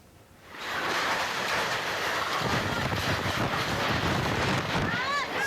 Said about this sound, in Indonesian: detik-detik angin puting beliung menerjang desa Tanjung Tiga dan desa Muara di Kecamatan Belanakan